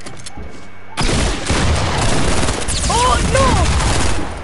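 Hunting rifle gunfire in a video game: a loud burst of shots erupting after a quieter start, followed by sustained rapid fire, with a brief exclamation from a player.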